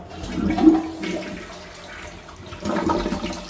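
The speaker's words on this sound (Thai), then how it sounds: "นี่ฮะเสียงกดปุ๊บมันจะประมาณ 3 วิมันก็จะดันปฏิกูลลงไปนะฮะเร็วแล ้วก็แรงนะฮะ" A Kohler siphon jet toilet flushes with a quick, forceful rush of water that swells, eases briefly, then surges again, close and fairly loud.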